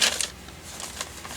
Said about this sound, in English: The paper, the crumpling is my doing.